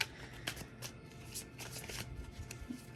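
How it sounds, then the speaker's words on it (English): Tarot cards being shuffled by hand, a steady papery riffling and slapping that runs continuously at close range, with no voices over it. "Let me give it a good shuffle."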